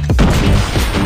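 An explosion in a Call of Duty Domination match bursts out as a loud, close crash with a quick cluster of impacts and thuds, all over within about a second.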